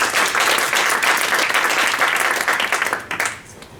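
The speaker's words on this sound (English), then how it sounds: "Please, a round of applause for Stefan." Audience applause greeting a speaker invited on stage at a cybersecurity workshop in Brussels, a dense, steady wash of many hands clapping that thins into a few scattered claps near the end.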